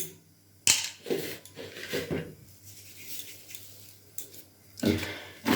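Cauliflower and potato pieces being mixed with salt and turmeric, heard as scattered close clatters and scrapes of vegetables and utensil against a bowl, with quieter shuffling between the louder knocks.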